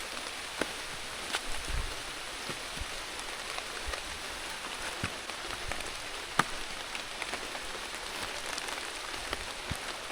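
Rain falling in a Thai forest during a hike, a steady close patter on leaves and surfaces with scattered louder individual drops ticking through, with no voices.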